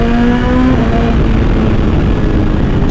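A 2021 BMW S1000RR M sportbike with an Akrapovic titanium exhaust holds a loud, steady, close engine drone for a few seconds, with a rising whine in the first moment and then a level tone.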